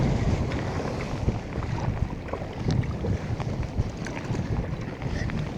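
Strong gusting wind buffets the microphone while sea kayaking on Georgian Bay, a constant roaring rumble with faint splashes of water against the boat throughout.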